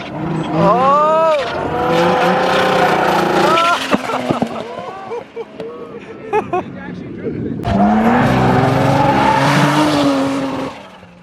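A big-turbo BMW E46 M3 drifting at high speed, its engine wailing and rising through revs while tires squeal and skid, loud and close, with shouting voices over the top.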